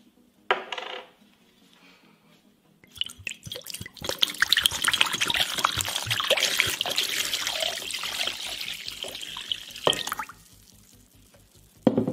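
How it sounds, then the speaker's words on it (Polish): Jura whisky is poured into a container over a calculator, a steady trickling splash lasting several seconds after a few clinks, close and fairly quiet. "i wleję ekskluzywnej whisky marki Jura."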